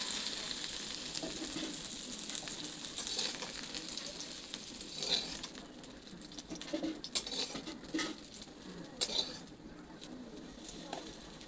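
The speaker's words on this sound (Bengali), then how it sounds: "এরপর বেগুনগুলো ভেজে নেব নুন দিয়ে।" Eggplant pieces frying in oil with salt in a pan, a faint, continuous crackling sizzle with soft scattered pops and occasional stirring clinks.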